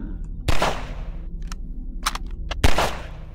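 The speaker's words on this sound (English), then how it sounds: "That is the Half-Life 2 pistol sound, yes." Two sharp, loud single gunshots from the Half-Life 2 pistol, played in a Jeff The Killer game, about two seconds apart over a low ambient hum, with faint clicks between them.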